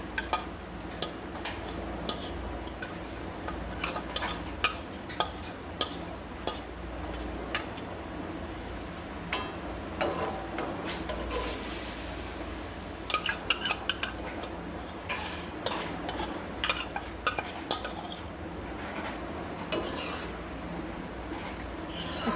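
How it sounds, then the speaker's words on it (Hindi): A spoon stirs marinated chicken in a cooking pot, giving scattered metallic clinks and scrapes against the pot over a steady background hiss, close and moderately loud with no talking. "اچھے سے اس کو مکس کرنے کے بعد"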